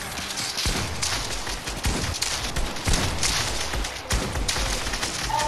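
Gunfire in the video game Fortnite, a dense run of sharp shots and thuds repeating through the whole stretch at fairly even loudness, with a mix of near and farther bursts.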